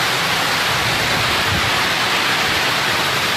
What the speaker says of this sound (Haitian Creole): en pile vent avec la pluie, en pile vent avec l'eau, en pile vent. L'orage a monté.